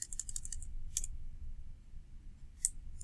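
Keys clack on a computer keyboard while an equation is entered into Desmos: a quick run of taps, then a lone click and another a moment later, close and quiet over a low background hum.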